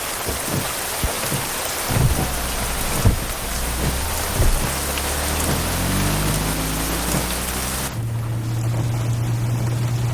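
Heavy rain pours steadily with low thunder rumbling through it, loud and continuous, then the downpour thins into a lighter patter near the end.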